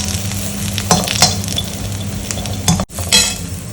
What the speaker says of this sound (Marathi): कांदा भाजतोय